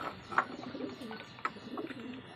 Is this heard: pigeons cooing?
yes